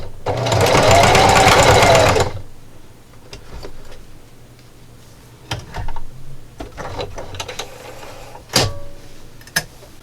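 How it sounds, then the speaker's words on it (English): A sewing machine stitches fabric for a grippy jar opener in a loud burst of about two seconds, then stops for a backstitch, leaving scattered quieter clicks and handling knocks. "So I'm coming up to my final pin. When I do, I'm just going to stop and backstitch."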